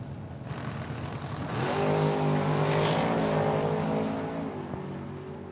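An S10 pickup truck and a Cuda launch down the Tucson Dragway strip, engines roaring up through rising, revving harmonics that swell loud and then ease off as the cars pull away.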